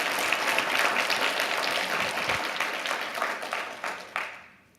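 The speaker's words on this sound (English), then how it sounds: "Could I get a round of applause just for my mom for coming out here?" An audience applauds the speaker's mother at a talk about autism, full steady clapping that thins into a few scattered claps and fades out at the end.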